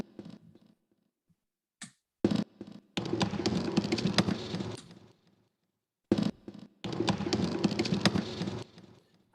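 A hip-hop beat built on a chopped typewriter sample pitched up very high, heard as bursts of rapid, bright clacking patter that start, stop and restart in short phrases, with no voices.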